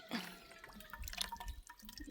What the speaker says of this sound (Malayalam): എന്തായാലും ഞാൻ കുപ്പിയിൽ വെള്ളം പിടിക്കുന്നുണ്ട്